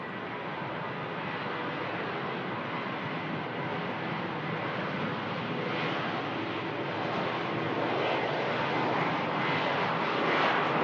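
At Manchester Airport, a diverted airliner bound for Tenerife roars steadily through the whole stretch, a loud, continuous broadband engine rumble that swells slightly toward the end, with no talking.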